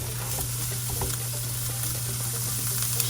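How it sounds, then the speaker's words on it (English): Peppers and onions with a little salt sizzle steadily in a pan, a continuous close frying hiss with faint crackles and no talking. "Let's go ahead and add in our peppers and onions, a little bit of salt. And we're gonna cook these until they soften up"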